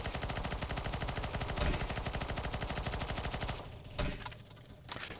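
Rapid automatic gunfire from a raging boss in a CS:GO zombies surf map, a dense, steady loud stream of shots that breaks off near the end into a few scattered bursts.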